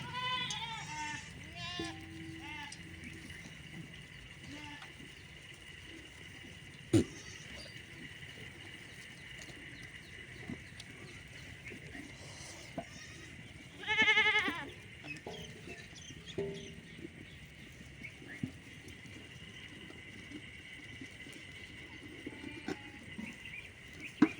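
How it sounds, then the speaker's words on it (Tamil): Young goat kids bleat at scattered moments, with a louder cluster of cries midway, over a quiet farm background with faint voices and occasional fowl clucks. "நம்ம ஆட்டுக்குட்டிங்களுக்கெல்லாம் தண்ணி கொடுத்து உள்ளார போட்டாச்சுப்பா"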